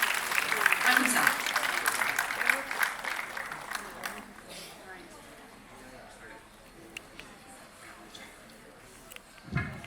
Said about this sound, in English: let's all welcome him with a warm round of applause